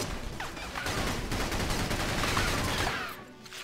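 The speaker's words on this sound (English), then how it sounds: "Those Tundran bullets sting a little bit, huh?" Rapid bursts of gunfire from the video game Battalion Wars, dense overlapping shots rattling continuously for a few seconds before tapering off, with no speech.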